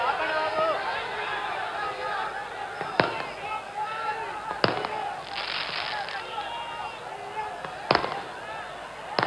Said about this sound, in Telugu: ఆ టపాకాయలు ఆపాలి బాబు